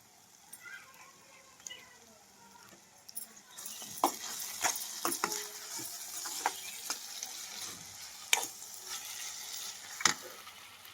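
Tomatoes added to onions and green chillies frying in a pan, a soft steady sizzle with scattered stirring clicks and utensil taps, fairly quiet, no talk.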